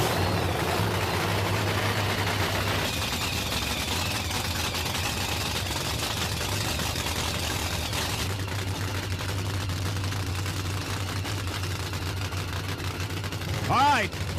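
Nitro Funny Car drag racers firing up at the drag strip for a second-round Funny Car Eliminator semifinal, a loud continuous engine roar with rumbling low tones and a sharp rising rev burst near the end.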